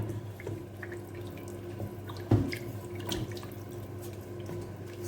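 Water is poured into a pot of white beans, about a litre, making a faint, steady trickling and splashing close by with one brief louder splash partway through.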